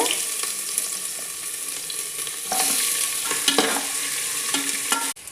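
Onions sauté in a pan with cardamom and bay leaf for chicken biryani, making a continuous close sizzle with occasional stirring clinks. The sound cuts off abruptly at the end.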